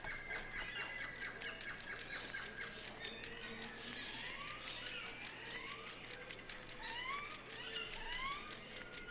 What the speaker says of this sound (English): there is that quick loop of bird song that was constantly going